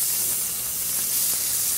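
Leeks sizzle steadily in a hot pan, a soft continuous hiss and spatter heard alone at low level.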